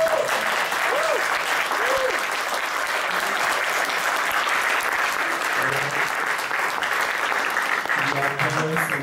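Applause from the audience at a Eurovision press meet and greet, sustained clapping from many people that holds steady throughout, with occasional voices and whistles over it.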